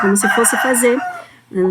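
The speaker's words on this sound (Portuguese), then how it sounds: "talvez vocês estão ouvindo o galo cantando" A rooster crowing on a farm, loud and close, with a series of rapid clucking calls followed by another crow, while someone speaks over it.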